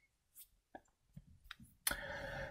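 A few soft, separate computer mouse clicks spaced out in a quiet room, followed by a louder, longer burst of clicking noise near the end.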